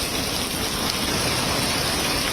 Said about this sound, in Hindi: ये तस्वीर जहां झमाझम पानी बरस रहा है